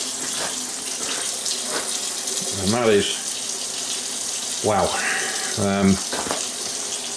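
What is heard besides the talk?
running tap water rinsing a specimen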